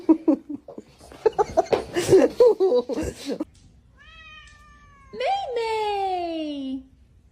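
A cat meows in drawn-out, wavering cries near the end, following a stretch of chatter and laughter.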